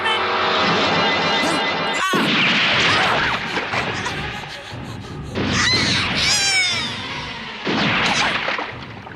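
Gunfire in an anime action scene: a sharp crack near two seconds, then loud bursts and ringing impacts with clattering debris and music, in a busy, dense mix.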